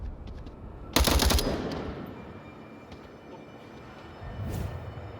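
A sharp, loud burst of rapid gunshots in the Onward VR shooter, a short stuttering volley that rings out and decays, followed by quieter ambient rumble and a faint later thud.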